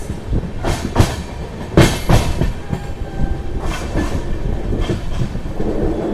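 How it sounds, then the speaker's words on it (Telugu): The Sabari Express, a Secunderabad–Tirupati train running with LHB coaches, pulls away from a station with steady clickety-clack of wheels over rail joints and bursts of louder rumble, heard close from inside the train. "ట్రైన్ వచ్చేసి నెడుబ్రోల్ నుంచి అయితే బయలుదేరిపోయింది."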